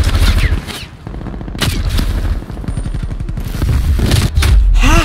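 Death machine gunfire in a video game, a loud, rapid, sustained burst of heavy automatic shots with booming impacts, continuous across the whole stretch.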